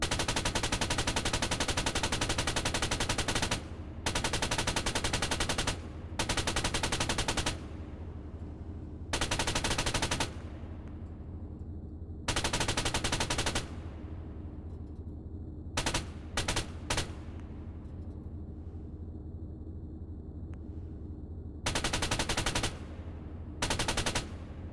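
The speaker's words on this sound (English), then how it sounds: "So when you shoot the machine guns at them, they go in this massive arc right up in the sky and then drop down on them." Machine gun fire in the video game Arma 3, loud sustained bursts of rapid automatic shooting lasting one to three seconds each, separated by short gaps and a few brief single shots, with no talking.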